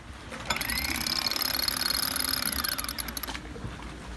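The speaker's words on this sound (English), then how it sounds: "You got a winch here for the dinghy" Electric dinghy winch aboard a boat, switching on with a sharp start and running as a loud, rattling mechanical whir for nearly three seconds before cutting off.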